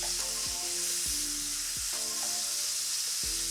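Sliced chicken breast fries in oil in a pan, a loud continuous close sizzle punctuated by a few sharp clinks and scrapes of stirring, with no talking.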